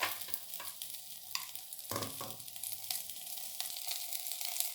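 Ingredients for horse gram rasam sauté in a pan, with a soft, continuous sizzle and crackle broken by a few stirring scrapes and pops, close up and unaccompanied.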